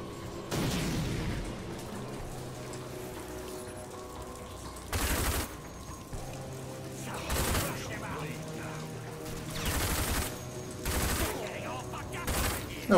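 Grenade blasts and rapid gunfire from the shooter game RAGE come in repeated loud bursts over a low game backdrop, with pauses of quieter ambience between them.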